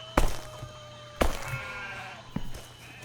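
Sheep bleating in the survival video game CHKN, heard as a few short calls and thuds spread across a few seconds against a steady low background hum.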